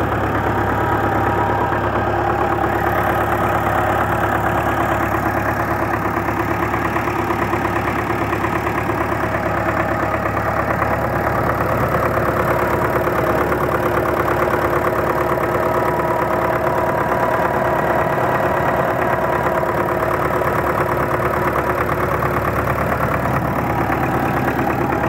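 A D243 diesel tractor engine idles steadily after a fuel pump repair, still cold and smoking slightly, with a continuous low throb and light knock running alone at close range.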